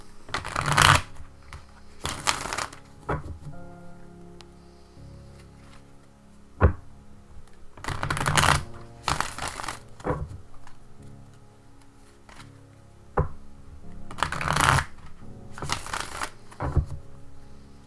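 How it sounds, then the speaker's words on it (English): Tarot cards are shuffled in several quick riffling bursts separated by pauses, close and crisp, with soft handling taps between them. "give me a few seconds here to shuffle the deck, shuffle the cards"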